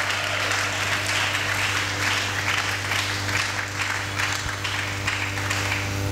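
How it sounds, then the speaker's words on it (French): A church congregation claps and cheers loudly for the king, sustained dense applause from a crowd filling the room, continuous and even throughout with no speech over it. "Est-ce que nous pouvons acclamer très fort pour le roi?"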